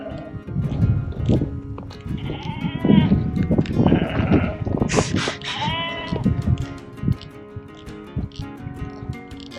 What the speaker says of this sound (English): there's so many different tones of sheep baying